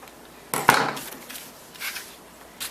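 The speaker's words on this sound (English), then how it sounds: "I'm going to cut them apart." Scissors snip through cotton quilt block pieces at a sewing table, a sharp cut near the start followed by a few softer rustling snips of fabric, close and alone.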